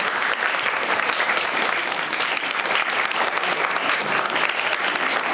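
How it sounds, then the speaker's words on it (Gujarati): A crowd at a school prize-distribution event applauds all the students, a sustained, dense, even round of clapping that stays loud throughout. "બધા વિદ્યાર્થીઓને આપણે તાળીઓના ગડગડાટથી વધાવશું"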